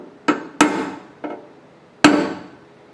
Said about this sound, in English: I use a pin style hammer like this. I put it on where it's too high, and then I tap it